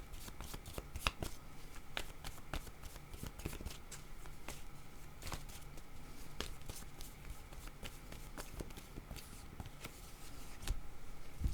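A deck of word cards is shuffled by hand, a steady run of crisp riffling clicks and flutters that stays close and fairly even throughout, with no voices.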